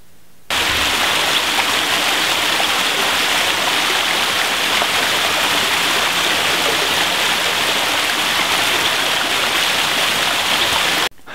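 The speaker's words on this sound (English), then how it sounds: "I really love this waterfall." A backyard waterfall pours in a loud, steady, close rush of splashing water that holds unbroken from start to finish, with no voices.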